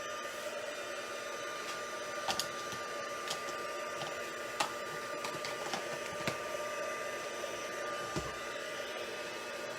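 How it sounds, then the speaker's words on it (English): An embossing heat tool blows a steady, close whirring hiss of hot air over embossing powder, with a few faint clicks and taps scattered throughout. "Now I'm going to make a little bit of noise with the heat tool"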